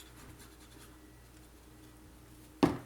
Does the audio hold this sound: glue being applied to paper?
yes